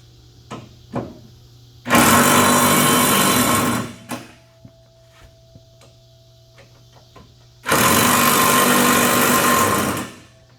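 A power tool tightens the blade bolts on a Husqvarna MZ61 lawn mower in two loud whirring bursts of about two seconds each, with quiet gaps and faint knocks and clicks between them.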